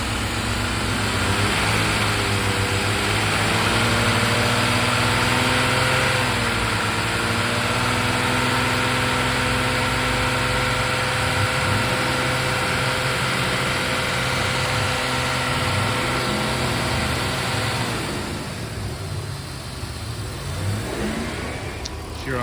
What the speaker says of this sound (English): gonna rev the engine up and look at the voltage drop change here